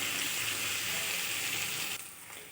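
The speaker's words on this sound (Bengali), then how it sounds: "দিয়ে দেব হলুদ, দিয়ে আর কিছুক্ষণ কষাবো।" Spices with turmeric sauté in a pan, giving a dense, steady sizzle that drops abruptly in level near the end and then carries on more quietly.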